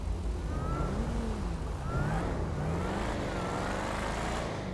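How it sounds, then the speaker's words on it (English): Supercharged car engine in GTA 5 Online, its whine rising and falling steadily with the revs, with traffic rumble underneath and no talking. "You hear that little supercharged whine?"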